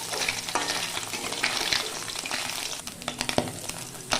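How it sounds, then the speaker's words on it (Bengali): Small mourala fish, salted and rubbed with turmeric, frying in oil in a kadai as they are turned, giving a steady close sizzle with scattered crackles and a few sharp spatter pops. "এই মাছগুলোকে দু মিনিট মতো ভাজার পর এগুলোকে আমি উল্টে দিচ্ছি"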